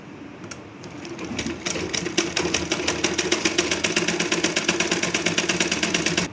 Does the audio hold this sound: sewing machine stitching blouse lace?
yes